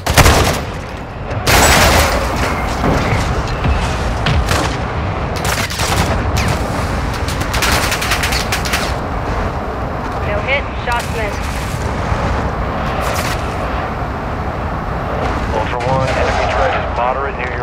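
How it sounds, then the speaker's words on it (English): Mortar strike explosions in Call of Duty: Modern Warfare 2 DMZ, a barrage of heavy booming blasts and crackling impacts in rapid succession, loud and continuous, with a radio voice briefly heard amid the chaos. "Mortar strike inbound now."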